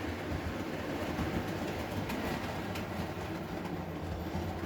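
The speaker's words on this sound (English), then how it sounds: "the small passenger train can come back into the station" A small passenger train rolls steadily along with a continuous low rumble and rattling of cars, no clear gaps, moderately loud throughout.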